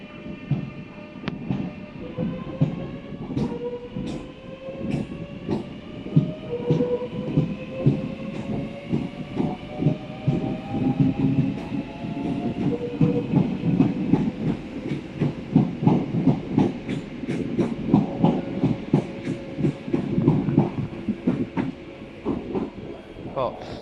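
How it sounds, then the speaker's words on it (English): Southeastern electric train at Tunbridge Wells, traction motors whining with pitch rising steadily as it pulls away, rhythmic clickety-clack of wheels over rail joints growing louder and faster, with a voice briefly talking. "I'm just going to let you hear the motor noises."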